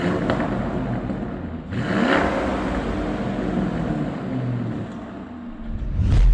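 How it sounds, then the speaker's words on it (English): A Lamborghini Urus Performante with its twin-turbo V8 and revised Akrapovic exhaust revs hard close by, swelling in two sharp bursts over a steady, throaty idle. "Let's hear what this revised Akrapovic exhaust sounds like."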